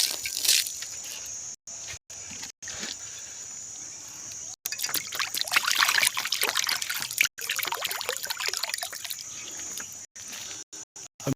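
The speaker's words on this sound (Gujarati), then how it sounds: "હું પહેલાં જઈને પંછી લોકોનું પાણી પહેલાં બદલાઈ નાખું" Water being poured into a bird's drinking pot, a close, soft trickle and splash that comes in uneven bursts, cut by short silent gaps.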